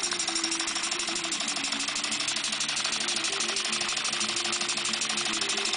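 An air-driven beam engine with a flyball governor runs steadily, giving a fast, even mechanical chatter and hum with a faint tonal whine, close and continuous throughout.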